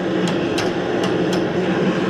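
A blacksmith strikes hot metal with an improvised hammer while twisting a leaf on a forged dinner bell, four sharp evenly spaced taps over a steady forge roar.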